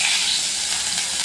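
Garlic dropped into hot oil with fried cumin seeds, a loud continuous bright sizzle and hiss filling the short moment, with no talking.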